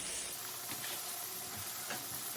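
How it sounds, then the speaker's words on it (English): Fin fish frying in hot oil for a po'boy, a steady loud hiss and sizzle that stays even throughout, with no voices. "So that's the fish frying"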